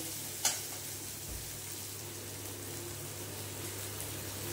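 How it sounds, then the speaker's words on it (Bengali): Spice masala for a potato and borboti bean curry sautés and browns in a pan with a soft, steady sizzle, a single sharp clink of a utensil early on, quiet and without talking. "একদম আমি ব্রাউন ব্রাউন করে কষে নেব"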